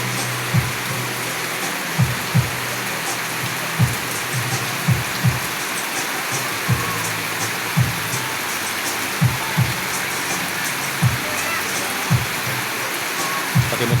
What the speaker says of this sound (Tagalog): Lakas ng ulan talaga oh.